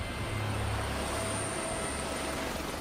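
Steady, continuous helicopter drone during a Brazilian special forces training exercise, a broad rotor-and-turbine roar holding constant throughout with no voices.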